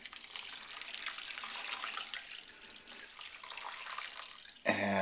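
Wort trickles and drips steadily out of the grain during the sparge while brewing a nut brown ale from dry malt extract. The faint, continuous splashing runs for several seconds and ends in a brief, sharp clatter.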